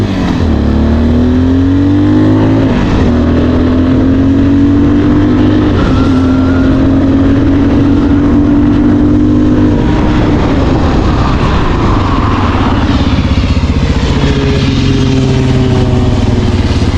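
A motorcycle engine hums loud and close through a U-turn, holding a steady drone whose pitch dips and then climbs again as the bike slows and pulls away, with no talking.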